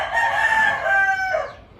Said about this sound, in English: This rooster's got, as you can see, easy, Bubba, plenty of station on him